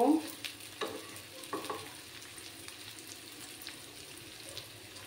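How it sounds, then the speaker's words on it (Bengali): Onions fry in a pan for a fish-in-poppy-seed dish, a faint soft sizzle with a few scraping stirs early on, quiet and close, no voices. "পেঁয়াজগুলোকে আমি 2-3 মিনিট ভালো করে ভাজা করে নেব"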